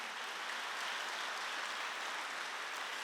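A church congregation claps during a Sunday worship sermon, an even, continuous roar of many hands at moderate loudness lasting the whole moment.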